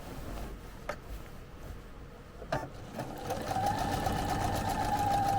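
A sewing machine stitches chenille fabric on a curved piece, starting with a few slow, separate stitches and then settling into a steady, rapid mechanical whir with a rhythmic tapping.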